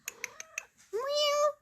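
House cat meows indoors: a few soft clicks and taps first, then one clear, drawn-out meow close to the microphone, loud and alone.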